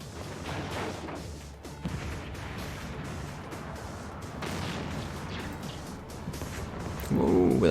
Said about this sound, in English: Check the explosion.